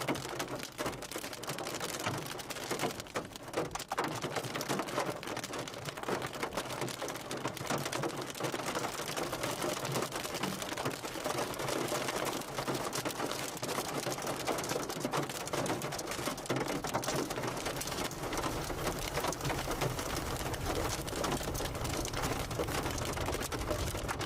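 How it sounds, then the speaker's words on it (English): Pea-sized hail falls outdoors during a weak Wyoming storm, giving a dense, continuous patter of small pellet impacts at a steady level for the whole stretch, with no voices. "We are getting some pea-sized hail here though."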